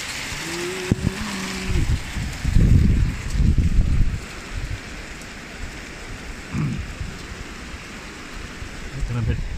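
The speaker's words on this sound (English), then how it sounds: "storm has just come down through the valley" A rainstorm coming down through a valley makes steady hiss outside an allotment shed, with low rumbling gusts and patter on the roof. The sound stays constant and moderately loud, with a brief tonal bleep near the start.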